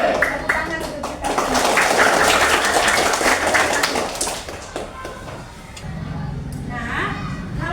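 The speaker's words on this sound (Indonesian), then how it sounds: "Tepuk tangan untuk kita." Classroom of children clapping together, a dense burst of applause mixed with young voices and chatter that fades after a few seconds into quieter talk.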